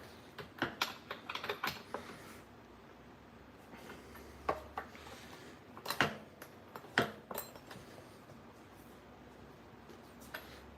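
Sharp clicks and metallic taps on a Stihl chainsaw being restored on a bench as the bar is tightened down, a scattered run of close ticks with a louder cluster near the middle, no talk.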